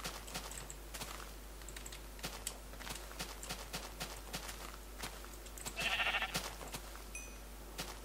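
A sheep in Minecraft takes a charged axe hit and lets out a short bleat, heard over a steady run of light keyboard-like clicks.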